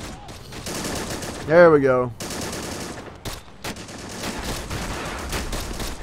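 Gunfire from the World War II strategy game Men of War Assault Squad 2, a steady crackle of rapid shots running under the battle noise, with a man's brief spoken phrase partway through.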